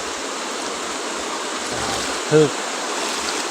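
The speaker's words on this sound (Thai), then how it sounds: "สายน้ำมาจากน้ำเซพี่น้อง มาจากน้ำเซบังไฟ ไหลขึ้นมา ผ่านกลางบ้าน" Floodwater from the Xe Bang Fai river flowing through a house in Khammouane, Laos, a steady broadband rushing wash, with a voice briefly speaking over it.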